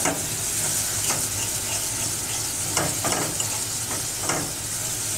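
A spice mixture with a little sugar being sautéed in a pan for raw banana kofta curry, a loud unbroken frying hiss with occasional soft scrapes of a spatula.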